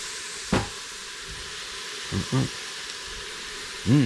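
Onions and vegetables sauté in a pan for rice pilaf, a steady soft sizzle and hiss running throughout, with a few brief spoken sounds and utensil bumps over it.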